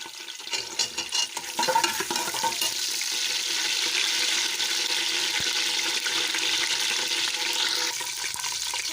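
Steady hiss of garlic ginger paste frying in hot ghee, a dense crackling sizzle that starts with a few stirring clatters and holds loud and continuous throughout.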